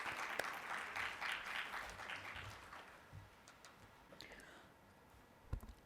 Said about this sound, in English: A round of applause, please, for our 4 members.